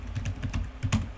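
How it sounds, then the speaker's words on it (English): Quick typing on a computer keyboard while entering a command, a close run of soft, evenly spaced key clicks with no voices. "And now I can type in npi toothpick.exe."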